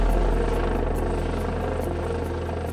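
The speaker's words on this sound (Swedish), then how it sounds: "det gäller att helikoptern står så still som möjligt" A helicopter hovers near a high-voltage power line, its steady rotor thump and engine drone continuous and fairly loud throughout, with no voices.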